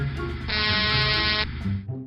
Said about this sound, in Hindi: दूर से ट्रकों की हॉर्न की आवाज सुनाई दे रही थी।